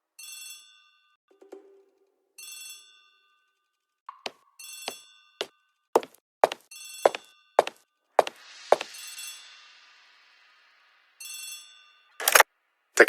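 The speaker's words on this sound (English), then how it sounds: "The telephone in the hall is ringing." A telephone bell rings in repeated short bursts, with sharp wooden knocks and clatter between the rings, fairly close and clear.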